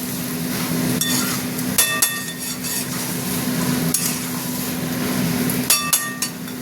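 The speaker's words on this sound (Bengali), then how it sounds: "মোচাটা এবার মোচা কষবো" Banana flower sautéing in a pan, close and fairly loud, with a low steady frying hiss broken by several sharp clinks and scrapes of a metal spoon against the pan.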